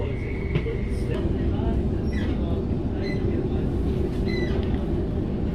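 Steady low rumble and hum from inside a moving train carriage in Sydney, Australia, constant throughout, with faint higher squeaks and distant sounds over the noise.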